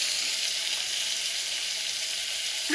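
Mustard seeds and cumin sizzling in hot oil for tempering, a steady close crackling hiss that holds throughout with no talking.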